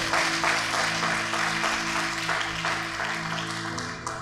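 A church congregation applauds during a sermon, sustained clapping over a held musical backing that thins slightly toward the end.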